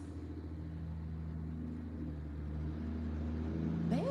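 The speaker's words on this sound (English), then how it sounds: "They got too many trucks passing by, all this noise going on." Trucks pass by on a nearby road, a low steady engine rumble with a faint tonal drone that grows slightly louder toward the end, heard at a distance without talk.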